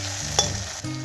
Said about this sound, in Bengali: এবার কড়াই আমরা পেঁয়াজটা ঢেলে দিলাম।